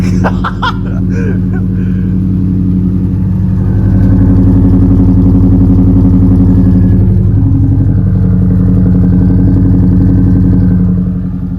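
A Subaru STI engine idling and then revving under load on a test drive, a loud, steady low rumble with harmonic drone that swells after about four seconds and holds close throughout.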